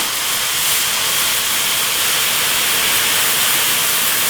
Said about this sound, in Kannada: ಸ್ಟವ್ನ ಆನ್ ಮಾಡಿಕೊಂಡು ಹಾಲನ್ನ ಕುದಿಸ್ಕೊಳ್ಳೋಣ.